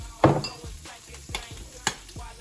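Ham and eggs in a hot pot crackle with sharp, irregular pops, a handful of loud spits standing out over a low sizzle, close and alone with no talking.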